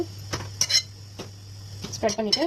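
Wheat bread gets a mashed potato mixture spread across it with a utensil, giving a few soft scraping strokes and light clinks of cutlery against a plate, fairly close and quiet, with a low steady hum underneath.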